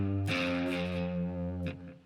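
An electric guitar with distortion and effects plays a blues riff: a sustained bent chord attack, then a second strummed hit as it fades, moderately loud and alone.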